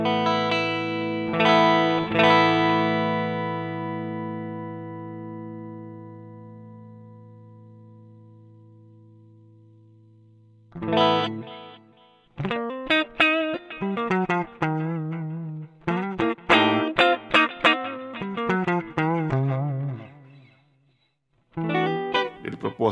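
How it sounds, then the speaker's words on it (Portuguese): Clean electric guitar played through an Ampero II Stomp on its Fender Blackface Deluxe Reverb model, ringing chords that sustain and decay, then a run of picked single notes and short phrases, close and alone. "O próximo aqui é um Black Deluxe Plus, que é Fender Blackface Deluxe Reverb, é o canal vibrato mais popular."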